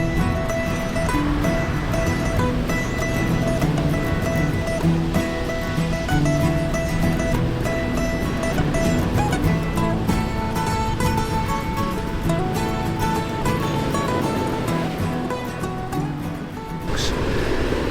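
Sea waves crashing over a couple of small reefs along a coastline fishing spot, a continuous loud surging wash that swells and recedes throughout.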